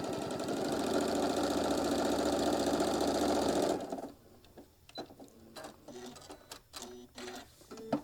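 A sewing machine stitching a half-inch seam on a travel case for a mini iron, a fast steady run of close mechanical stitching that stops partway, followed by quieter clicks and handling noises.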